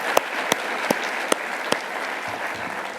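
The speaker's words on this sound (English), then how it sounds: "let's give them another round of applause" An audience at a space congress closing ceremony applauds the astronauts present with steady clapping, a few sharper individual claps standing out before it thins.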